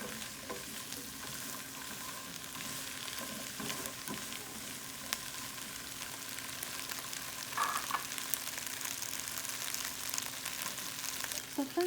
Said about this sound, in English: So at this point we will let our okra fry.